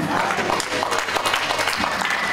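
A congregation at a church service claps in steady, dense applause that carries on throughout, with a voice faintly audible beneath the clapping.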